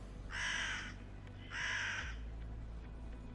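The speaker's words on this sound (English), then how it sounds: "strange cawing noise." Two strange, harsh crow-like caws, each about half a second long, come in a quick pair over a low background hum, in a tabletop fantasy game session.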